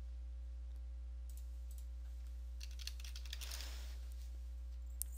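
Quiet keystrokes on a computer keyboard, a short burst of several clicks in the middle followed by a single tap near the end, over a steady electrical hum.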